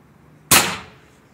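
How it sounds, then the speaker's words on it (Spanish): A single sharp crack comes from a Shark .22 (5.5 mm) CO2 air rifle with an underlever pump, firing a 16-grain Polo pellet. The loud close report decays quickly, and no one speaks. "Así que vamos a hacer un disparo."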